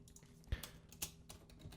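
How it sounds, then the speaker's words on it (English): Quiet, close keystrokes on a computer keyboard while writing code for a Unity game tutorial, a few distinct taps over a low steady background hum. "And then we're going to type another if statement."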